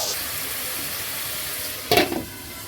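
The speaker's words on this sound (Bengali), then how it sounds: "দিয়ে দিলাম টমেটো, নাড়াচাড়া করে ঢেকে দিব।" Fish curry with tomato sizzles steadily in a pan, then a brief, loud clatter of stirring cuts through near the end.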